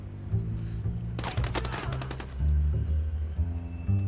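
Rapid automatic gunfire in the military shooter game Squad, one dense burst of closely spaced loud shots lasting about a second, set over a steady low in-game background hum.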